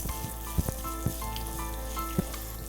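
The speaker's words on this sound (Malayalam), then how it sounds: "ഇഞ്ചി, പച്ചമുളക് അതൊക്കെ ഒന്ന് ചെറുതായി ഒന്ന് മൂത്ത് തുടങ്ങണം" Chopped ginger and green chillies sizzle steadily in hot oil in a pan, a close, even frying hiss broken by a few soft stirring clicks.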